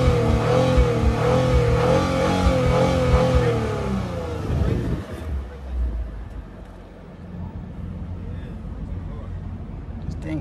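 A Lexus IS 350 F Sport in sport mode revs with a wavering, rising engine tone that drops away midway, leaving a rougher idle rumble, all mixed with people talking nearby.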